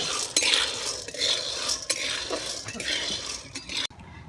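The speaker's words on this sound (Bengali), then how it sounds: "এবারে এইভাবে দু থেকে তিন মিনিট হালকা আঁচে এইভাবে নেড়ে নেব" Something is stirred in a pan over a low flame, with a metal spoon scraping and clinking against the pan in close, repeated strokes and a faint sizzle beneath. The sound cuts off abruptly near the end.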